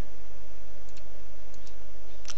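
A mouse button clicks a few times, soft and spaced about half a second apart, in a simple rock-paper-scissors game built in Visual Basic. The clicks come over a steady quiet computer hum and no one speaks.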